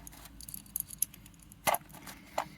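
Light metal pieces of an ultralight camping cook kit clink and rattle as they are handled and nested together, with a couple of sharper knocks standing out over faint handling noise.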